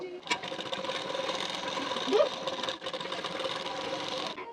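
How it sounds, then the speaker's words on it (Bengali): A sewing machine stitches along a marked line on blouse fabric, a steady moderate whir running throughout with a brief small pause near the middle. "এখন দাগ বরাবর করে সেলাই দিয়ে নেব"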